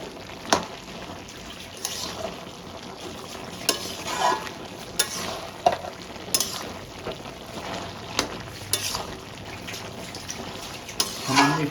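Mixed vegetables and a fish head with pumpkin stems stir-fry in a pan as the water cooks off, a steady close sizzle broken by repeated scraping stirs and clinks of the spatula.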